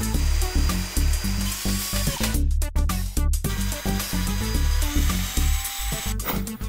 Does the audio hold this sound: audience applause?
no